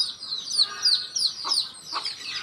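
A local village rooster gives a run of short, repeated clucks close by, with a few higher chirps mixed in, over a little under three seconds.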